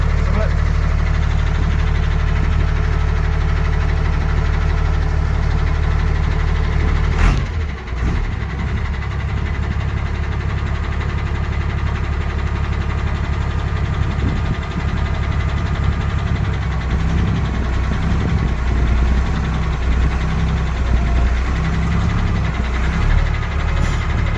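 The diesel engine of a Ford Cargo 0813 truck idles steadily and loudly throughout, with a low rumbling chug and a brief clunk partway through.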